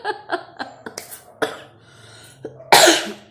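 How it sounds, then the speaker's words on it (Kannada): A woman coughs in a quiet room: a run of short, sharp coughs at first, then a few scattered single coughs, ending in one louder, longer burst. "ಕೆಮ್ಮು ಅವಾಗವಾಗ ಬಂದುಬಿಡುತ್ತೆ"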